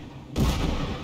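A sudden loud blast erupts in the Papers Please video game during a terrorist attack, a heavy booming explosion that hits abruptly and then rumbles on densely through the rest of the moment.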